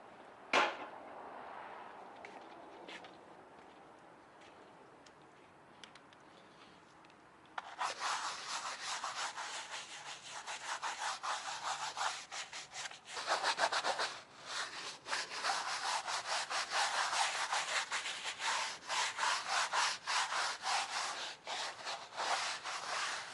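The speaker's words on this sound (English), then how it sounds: "So I'm gonna give it a little scrub." Scrubbing inside the interior of a Shelby GT350 during detailing, a close, rapid back-and-forth brushing that runs in dense bursts with brief pauses, after a quieter start.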